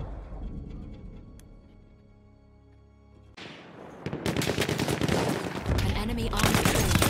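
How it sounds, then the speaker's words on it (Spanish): Battlefield 1 gameplay: after a quieter stretch, bursts of automatic gunfire erupt loudly and continue in rapid volleys, with players talking over it. "¿Y esos disparos?"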